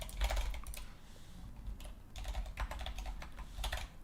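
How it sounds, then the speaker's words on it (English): Rapid clicking of keys on a computer keyboard while entering values into a web form, in irregular bursts with brief pauses, close and fairly quiet. "let's type some stuff in"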